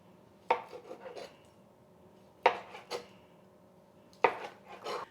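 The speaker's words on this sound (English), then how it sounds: "we're just going to cut these into sections and put them in our cast iron skillet" Smoked sausages are sliced into sections on a large cutting board, three sharp knife strikes against the board at roughly two-second intervals, each trailed by softer scraping and clatter, close and clear in a quiet room.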